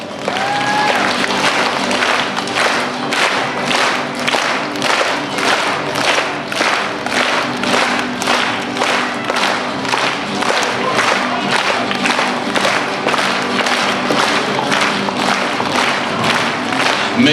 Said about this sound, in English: Clap some hands out there.